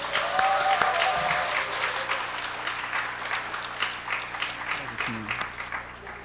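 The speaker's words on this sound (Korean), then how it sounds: "뜨거운 박수로 환영하겠습니다" Warm applause from a church congregation at a mothers' prayer meeting, welcoming a pastor to the front. The clapping is dense and sustained, with faint voices underneath.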